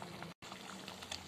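Ragda, a potato gravy, bubbles softly in a pot, a quiet steady simmer with one brief dropout and no talk.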